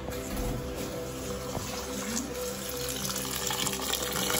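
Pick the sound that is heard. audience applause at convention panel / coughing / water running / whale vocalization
water running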